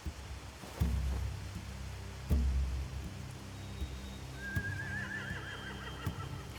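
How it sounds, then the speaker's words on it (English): A horse whinnies once in the video game The Walking Dead: The Final Season, a wavering neigh rising over a quiet backdrop of rain-like ambience and a couple of dull low thuds. "They have horses."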